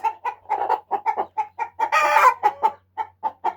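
Hens clucking in a backyard coop, a steady run of short, close clucks with one louder, drawn-out squawk in the middle.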